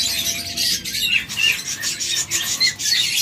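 A pair of rainbow budgerigars chirp and chatter close by in rapid, overlapping tweets with brief dips between bursts, loud and with no voices.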